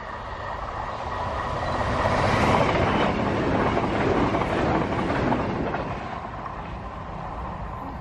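A passenger train, a Cross Country or Chiltern service, rushes past at Wormleighton level crossing, its broad roar swelling to a loud peak mid-pass and easing off, with clattering wheels, heard close and alone.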